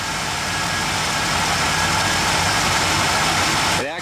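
Chevy K10 truck engine idling smoothly after sitting for a year, a steady close rumble with even texture throughout and a brief louder disturbance at the very end.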